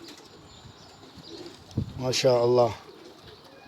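Pigeons coo in a short, loud burst of rounded calls close by, over faint background noise, with someone speaking briefly just before.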